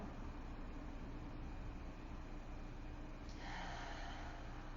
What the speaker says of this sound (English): An audible exhale, letting go.